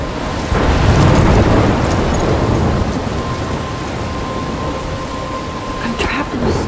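A thunderstorm in the video game Life is Strange brings a steady roar of heavy rain with a low rumbling swell near the start, filling the whole stretch with dense noise and a faint crackle near the end.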